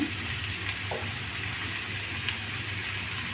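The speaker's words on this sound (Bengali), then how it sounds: "আমি আলু পেঁয়াজ রসুন আদা দিয়ে ভালো করে ভাজি ভাজি করে নিয়েছি" Potatoes frying with onion, garlic and ginger in a pan, a steady soft sizzle and crackle like light rain, continuous and fairly quiet with no talking.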